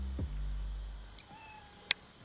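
A cat meows briefly in Spider-Man: Miles Morales, one short call near the start over game ambience, followed by a faint tone and a sharp click.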